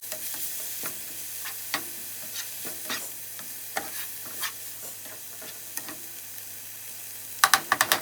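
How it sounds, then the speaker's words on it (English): Spinach sautéing in a pan for spicy palak bhaaji, with a light sizzle under repeated scraping stirs, a few sharper clatters of the spoon near the end. "Now I will cook it. I will saute it."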